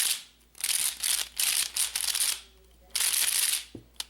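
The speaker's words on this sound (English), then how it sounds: "I have assembled the puzzle, and it's turning quite well now" A modded ShengShou Pyraminx puzzle is turned quickly in bursts of close, crisp plastic clicking and rattling, with short pauses between flurries and a small knock at the end.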